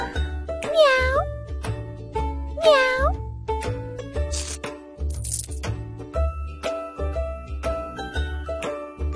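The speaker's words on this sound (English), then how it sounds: "Meow. Meow." Cartoon cat meows from the Lily & Kitty Baby Doll House kids' video game, two rising-falling mews over bouncy game music with light jingles, clear and close.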